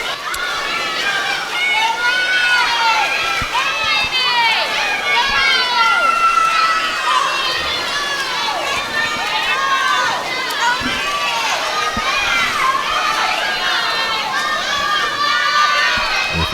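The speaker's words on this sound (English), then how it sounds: "There's a lot of swimmers in the pool area now, and they're cheering loud." Swimmers pack an echoing indoor pool area at a girls' swim meet, cheering and shouting loudly and without a break, a dense wash of high excited voices with calls and chatter throughout.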